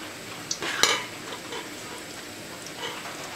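Garlic fries in a pan of oil with a soft, faint sizzle, broken by a few sharp clinks and scrapes of a utensil against the pan.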